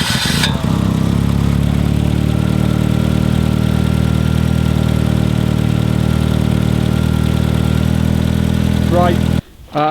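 An old engine runs on 14-year-old petrol right after a cold start, giving a loud, steady, close idle that holds unchanged for almost ten seconds before it drops out briefly at the very end.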